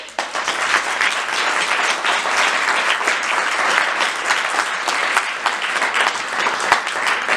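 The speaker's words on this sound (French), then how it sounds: "Donc je vous demande d'applaudir s'il vous plaît, Jaume Balaguerro." Dense, steady applause from a festival cinema audience welcoming a film director, continuous loud clapping filling the whole stretch without letup.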